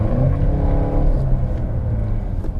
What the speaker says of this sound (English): So if I put this car in snow wet mode and I step on it